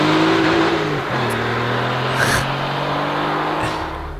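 An Alfa Romeo 147 GTA with a 3.2-litre naturally aspirated V6 runs loud and close, holding a steady rich drone with a slight shift in pitch partway through.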